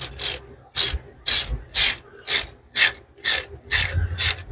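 Ratchet wrench clicking as a bolt on a Honda JDM car is tightened to torque by quarter turns, nine loud close bursts of rapid ratcheting in an even rhythm, with short pauses between strokes.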